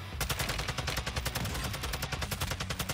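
Rapid automatic gunfire from the Call of Duty Mobile video game, a dense, loud stream of shots with steady rhythm running through the whole stretch without talk.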